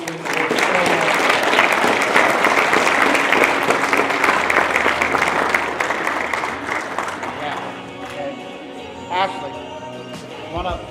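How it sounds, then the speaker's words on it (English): An audience at a student pitch competition applauds in a full, sustained burst that tapers off after several seconds, with scattered voices and chatter rising as the clapping dies down. "one more round of applause for all of the students that worked so hard"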